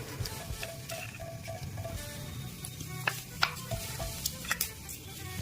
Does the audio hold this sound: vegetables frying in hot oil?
yes